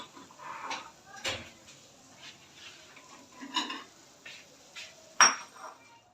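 Curry being dished out from a pot into a serving dish, with soft spoon scrapes, light clinks of metal on dishware and one sharper clink near the end, quiet and intermittent.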